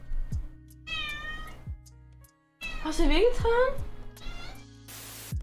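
A cat meows several times in drawn-out, wavering calls, close by, with a person speaking briefly between the meows.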